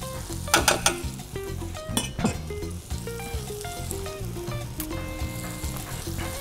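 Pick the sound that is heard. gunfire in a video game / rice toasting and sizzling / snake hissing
rice toasting and sizzling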